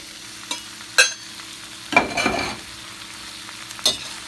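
Meat for pepper steak hits a hot pan over a high flame, giving a few sharp clattering bursts and a short crackling sizzle against a quiet background.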